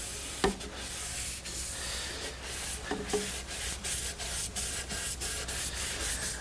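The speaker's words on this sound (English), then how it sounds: "Then the next step is to simply rub it with the grain." A clean rag rubs wood stain into a pine stool along the grain, producing a steady close scrubbing swish with rhythmic strokes over a constant background hiss.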